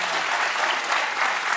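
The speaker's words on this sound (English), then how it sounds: "These people clap for that." Studio audience applause on a television talk show, a dense and steady burst of clapping throughout the brief moment.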